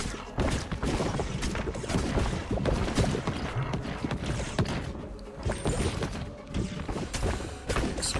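Dense, continuous explosions from the video game Ball X Pit, a rapid barrage of thumping blasts and crashes that stays loud and busy throughout with almost no pause.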